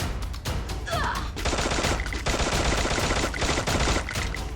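Rapid bursts of gunfire from the Free Fire mobile battle royale game, dense and continuous with loud rattling volleys filling most of the stretch, layered over game sound effects.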